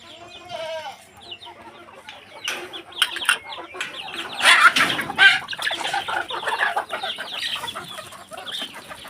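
Chickens clucking and squawking as they are let out of their coop in the morning for feeding, several birds calling at once with a crowing rooster-like call early, busy and close.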